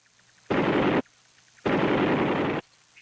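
An M60 machine gun firing two loud bursts of rapid fire close by, a short burst and then a longer one, separated by a brief quiet gap.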